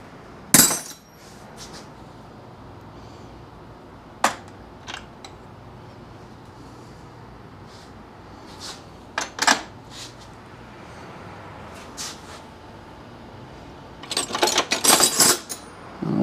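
Metal 14 mm bolts handled during assembly of a Harbor Freight 1000-pound engine stand, giving scattered sharp metallic clinks and taps, a burst of rattling clatter near the end, close and fairly loud over a quiet room.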